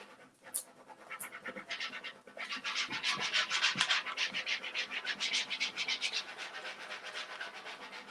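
A cherry blossom transfer is rubbed off onto a surface with quick, rhythmic, scratchy strokes, close and fairly faint, building after a few light taps into a steady back-and-forth scrubbing.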